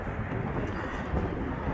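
Strong wind buffets the microphone outdoors in a low, continuous rumbling roar that stays steady and close throughout, with no voices.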